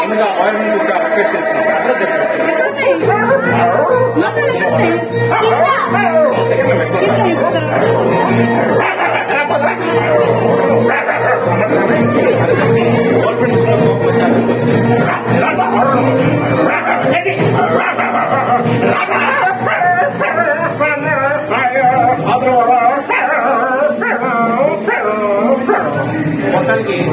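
A human voice imitates dogs barking, yipping and whimpering, loud and continuous throughout with scattered chuckles.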